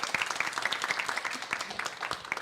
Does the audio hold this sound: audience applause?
yes